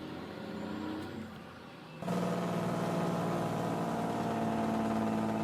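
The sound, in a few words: truck engine in Farming Simulator video game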